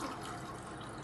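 Water is poured into a pot to cook Maggi noodles, giving a steady, even splashing pour throughout, close and moderately loud, with no voices.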